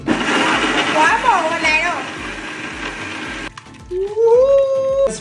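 A mixer grinder whirs as it blends mango juice with milk and honey, its motor pulsing under nearby talk for a few seconds before cutting off, followed by a rising whine.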